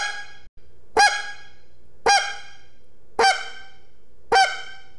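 Four evenly spaced, loud honking clucks from a goose call flute, each a short sharp note rising then falling, separated by quiet pauses with a faint hum beneath.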